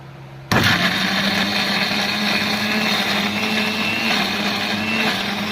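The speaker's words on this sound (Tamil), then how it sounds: "இப்போ வந்துட்டு இஞ்சி பூண்டு பேஸ்ட் வந்து அரைக்க போறோம்" A mixer grinder starts abruptly and runs steadily, grinding ginger garlic paste late at night, with a loud continuous motor whine and rattling blades throughout and no talk.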